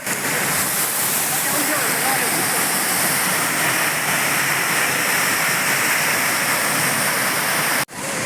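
A waterfall roars steadily, a broad, loud wash of falling water that holds unbroken and close for several seconds before cutting off abruptly at the end.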